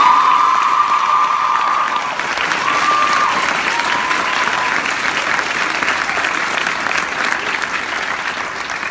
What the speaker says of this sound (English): I think we need to give Yasmine another big round of applause.